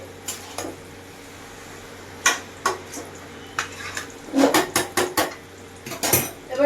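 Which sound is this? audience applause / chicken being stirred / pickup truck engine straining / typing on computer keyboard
chicken being stirred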